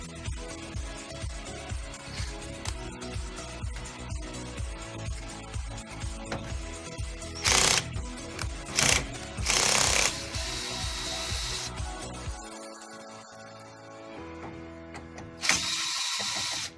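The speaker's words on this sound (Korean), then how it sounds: "이렇게 나사 두 개를 제거해 주고요." Two large screws are backed out of the drum unit of a Samsung laser printer with a hand tool, giving steady close ratcheting and clicking, then several louder bursts of scraping and rubbing as parts shift.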